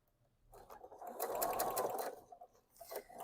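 A sewing machine stitches binding onto a clear vinyl pouch in a short, close burst of rapid mechanical whirring that runs for about a second and a half, then stops and briefly restarts.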